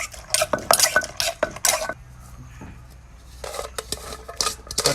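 Cherry snails and eggplant being pounded in a mortar, a quick run of clattering strikes and scraping near at hand, a pause, then more knocking resumes toward the end.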